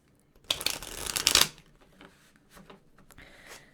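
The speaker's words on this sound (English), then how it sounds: "we're just gonna shuffle" Tarot cards are riffle-shuffled in one close, crisp burst of rapid fluttering slaps lasting about a second. Several softer taps and card handling sounds follow in a quiet room.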